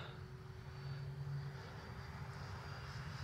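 A steady, distant engine drone from a Freewing F9F Cougar RC jet in flight hums continuously with a faint high whine above it, no voices.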